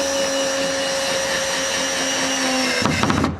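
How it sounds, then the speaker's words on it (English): A power tool whirs steadily up close as it drives screws into a wooden garden table. The motor's pitch shifts roughly near the end as a screw seats, and no one talks. "Let's just put a few more screws in."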